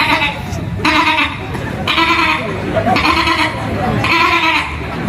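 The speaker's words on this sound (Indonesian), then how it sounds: "Itu kambing saja," Goats bleating repeatedly in a loud, close burst pattern, several calls about a second apart, with people talking throughout.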